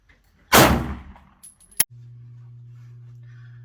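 A Sig Sauer P210A pistol fires one loud, close shot that rings out and decays, followed by a sharp metallic click and a steady low hum.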